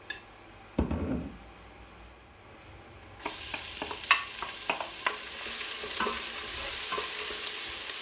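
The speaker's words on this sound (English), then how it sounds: "we'll begin by sauteing the chopped onions in 2 tablespoons of olive oil over a medium heat" Chopped onions sautéing in two tablespoons of olive oil over medium heat, a steady close sizzle with a sharp pan knock early on, then continuous frying and scattered stirring clicks.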